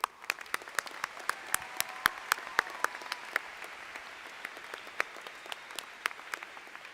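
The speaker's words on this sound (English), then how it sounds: "Join me in giving them a round of applause." Graduation ceremony audience applauds with sharp, evenly spaced claps over a steady crowd wash, sustained throughout at moderate loudness.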